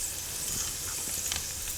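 Canned chickpeas sizzle in a hot pan with a steady, close frying hiss and a few soft crackles, heard alone.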